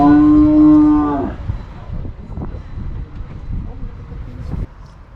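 A cow lets out one loud, close, deep moo lasting about a second, then it breaks off into low rumbling background noise.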